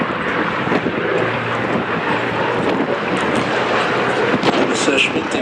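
Messerschmitt and Gloster Gladiator warplanes flying at the Duxford Flying Legends airshow give a steady, broad engine roar that stays loud throughout, mixed with gusty wind buffeting on the microphone.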